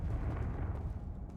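Confringo fire spell in Hogwarts Legacy going off as a dense, rumbling burst that roars low and steady through the whole moment, loud and close with no voices over it.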